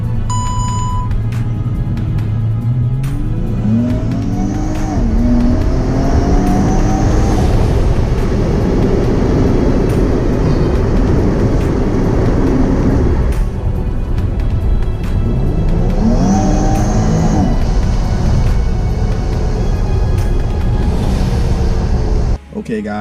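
A car engine fitted with a RIPP supercharger revs hard twice, each rising surge carrying a climbing whine, close and loud over the engine's continuous rumble.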